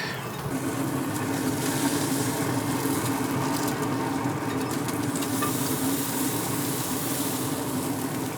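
A thick ribeye steak sears on hot metal, a loud, steady close-up sizzle and crackle that holds unbroken from start to finish, with no voices.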